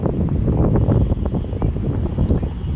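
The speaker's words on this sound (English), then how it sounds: "feeling the gentle wind on the right side of my body, especially on my face and my right shoulder" A gentle outdoor wind blows over someone seated on a bench, a steady, close rumbling rush against the microphone with soft swells and gusts throughout.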